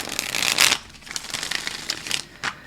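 Tarot cards shuffled vigorously by hand during a reading, a dense papery riffling that swells loud early on, then continues in softer brushing bursts and a final flurry, with no talk over it.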